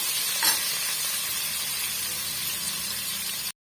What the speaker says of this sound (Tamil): வெங்காயம் ஓரளவுக்கு நல்லா வதங்கி வரட்டுங்க அது வரைக்கும் நம்ம வதக்கி விட்டுக்கலாம்